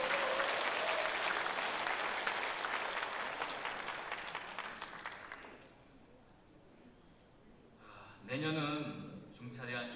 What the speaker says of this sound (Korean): 크게 박수 한번 보내주시면 감사하겠습니다